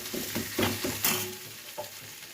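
Tomato frying in hot oil in a pan, a gentle continuous sizzle broken by several soft rhythmic stirring scrapes, quiet and close-up with no one speaking.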